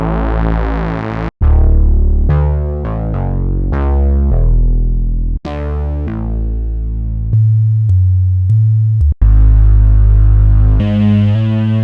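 Growler bass preset on the Cherry Audio GX-80 synth plugin, playing a run of loud, buzzy, harmonically rich bass notes and chords with sharp attacks, a few gaps and resonant filtered swells, with no talking.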